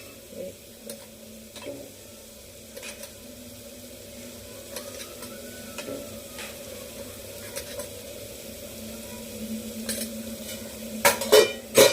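Spice masala with turmeric sizzles softly in a pan for prawn curry, a steady low hiss broken by occasional ticks and sharp spoon clinks on the pan as it is stirred, growing busier toward the end.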